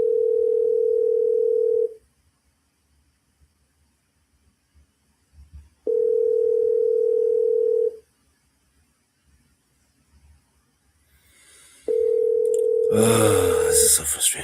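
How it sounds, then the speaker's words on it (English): Telephone ringback tone while calling someone: three steady two-second tones at even intervals with silence between, the last one cut off by a burst of louder noise near the end. "answer the phone"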